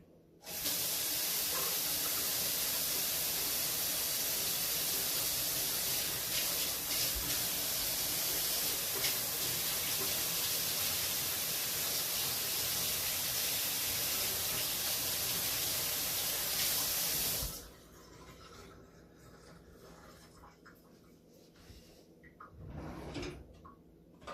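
Kitchen tap running strongly while hands are washed, a loud continuous hiss of water for about seventeen seconds, then it shuts off, leaving quiet room tone with faint handling sounds.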